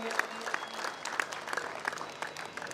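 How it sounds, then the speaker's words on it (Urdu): An audience at a promotional event for Areena Gold Cream in Talagang gives steady, dense applause, loud and close throughout, with the clapping sustained without a break. "آپ کے محبتوں والی تالیاں مجھے چاہیے."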